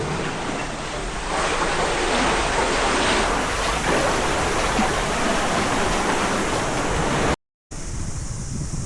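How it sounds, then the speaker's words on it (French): Steady outdoor rain at Cathedral Cove, a broad continuous wash of hiss that fills the whole clip at even strength, broken by one short dropout near the end, with no voices. "Bah maintenant il pleut."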